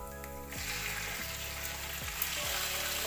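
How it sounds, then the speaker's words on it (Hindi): Half a kilo of boneless chicken hits hot oil with browned garlic and ginger, setting off a loud, steady sizzle and frying hiss that carries on close up with a few scrapes of stirring. "हम इसके अंदर आधा किलो चिकन डालेंगे।"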